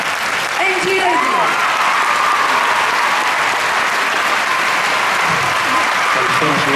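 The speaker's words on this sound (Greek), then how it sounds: "Ένα μεγάλο χειροκρότημα." Dense, sustained audience applause fills the whole stretch at the opening of a musical stage show in Glyfada, loud and even throughout, with a voice speaking over the crowd.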